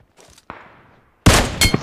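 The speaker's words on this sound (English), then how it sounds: "Guys shooting from there." PUBG Mobile gunfire, a few faint distant shots and then a loud burst of close firing near the end, with no talking.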